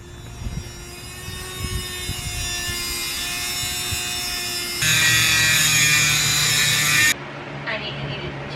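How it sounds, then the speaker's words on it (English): A Dremel rotary tool cutting a bus seat whines at a high steady pitch, growing louder for a stretch before cutting off abruptly. "Now he's trying a Dremel"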